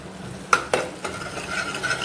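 Peas with turmeric, coriander powder, red chilli and chole masala being stirred in a pan, with two sharp spatula scrapes against the metal over a soft steady sizzle.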